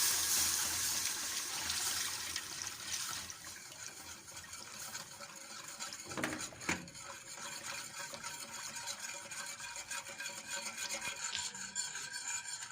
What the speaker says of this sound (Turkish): Şimdi yarım litre süt alarak hemen karıştırmaya devam ediyorum.